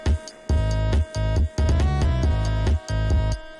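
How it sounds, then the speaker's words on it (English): An electronic kick drum in an FL Studio track thumps in a repeating pattern within a dense mix, with limiter-held, punchy low hits and bright, tonal layers, loud and steady with short gaps between phrases. "Like if you listen to the kick"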